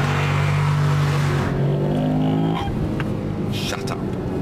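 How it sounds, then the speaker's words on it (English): A Lexus IS-F with a 5-litre V8 revs up with a deep, throaty roar that rises in pitch and then settles, heard close beneath someone talking. "a big, more muscular 5-litre with a lower rev band and a much throatier roar"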